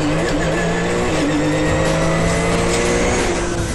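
A Porsche GT3 Carrera Cup race car's 3.6 litre flat-six engine roars loudly and steadily, high-revving and close, with a hint of tire noise and no talk.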